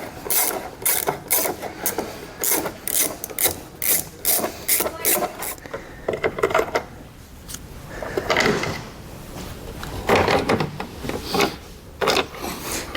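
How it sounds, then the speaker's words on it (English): A 7mm socket on a ratchet backs out two bolts during a trailer wiring kit install on a 2017 vehicle, giving rapid repeated clicking ratchet strokes in several close bursts, then quieter handling noises and further clicks. "We're going to take a 7mm socket and remove the 2 bolts."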